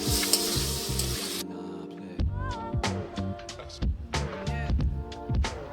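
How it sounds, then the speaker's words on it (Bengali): Potatoes frying with spice masala in a pan for a prawn curry, a loud continuous sizzle at first that gives way to repeated scraping stirs and clatters against the pan, with a voice and background music underneath. "তারপরে আলুগুলো দিয়ে আবার মশলা কষাতে হবে"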